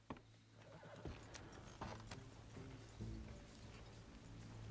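Horses neigh and hooves clip-clop during a Red Dead Redemption 2 train-robbery ride, with a steady low hum beneath and several sharp whinnies rising over a continuous busy game soundscape.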